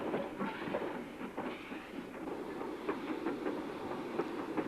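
Southwold Railway locomotive Number 4 running with its train, a steady close rumble with faint rhythmic clatter from the wheels and carriages, continuous and unbroken.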